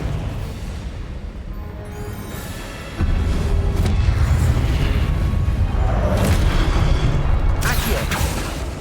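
A Confringo explosive spell goes off in Hogwarts Legacy, a heavy booming blast that lands about a third of the way in and then rolls on as a loud, sustained rumble with swooshing bursts layered on top.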